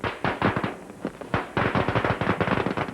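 Firecrackers burst at a traditional Vietnamese funeral ceremony: a dense, loud run of sharp pops and crackles, fired in quick irregular clusters that keep going for the whole stretch.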